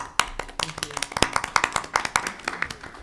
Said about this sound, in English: You got a round of applause right now